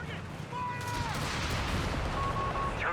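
Gunfire in the video game Company of Heroes 3, a dense battle din of shots and explosions with a brief whistling tone, loud and continuous, while voices shout in the game.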